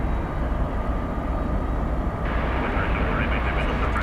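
An airliner departing DFW Airport at night, a steady broad rumbling engine roar that thickens partway through, heard at a distance with someone speaking over it.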